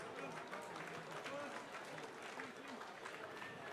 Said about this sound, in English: a big round of applause for both of these men